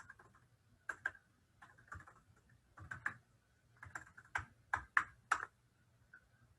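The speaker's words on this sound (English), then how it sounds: "I'll type it in." Keys typed on a computer keyboard during a college application workshop, heard as quiet irregular bursts of clicks with short pauses, alone.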